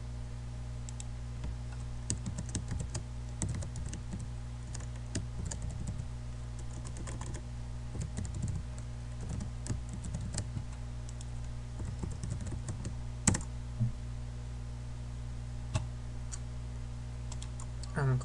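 Computer keyboard typed steadily during a login, a running patter of light clicks over a constant low electrical hum, with a few sharper key presses.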